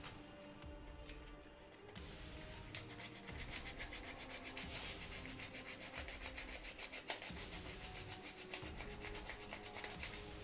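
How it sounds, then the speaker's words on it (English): Steady rhythmic rubbing of sandpaper over the back of a mud-coated piece, a faint, even scraping that repeats for several seconds. "Now on the back here, I forgot to sand this the first time, so I'll do that"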